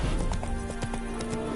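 Horse hooves in The Witcher 3 clip-clop in a quick, irregular patter close by, with faint background sound and no clear talk.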